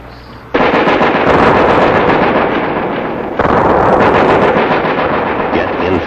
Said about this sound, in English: Prepare to throw. Throw grenade. On the way!